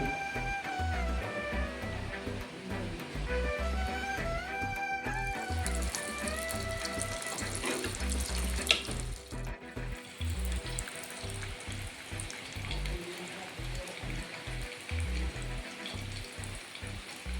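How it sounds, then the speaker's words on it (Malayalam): Mustard seeds splutter and sizzle in hot oil in a home kitchen pan while a mango pulissery is being prepared, a steady crackling fry running under a background tune. "കടുക് പൊട്ടി തുടങ്ങി"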